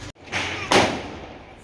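A single sharp bang of a large Diwali firecracker bursts out loud and close, with a short crackling tail and a fainter pop just before it.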